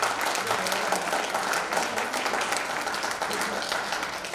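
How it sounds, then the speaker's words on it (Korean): An audience at a school baseball supporters' year-end evening applauding steadily, a dense, even wash of clapping heard at moderate level from a little distance throughout. "박수 쳐주시기 바랍니다."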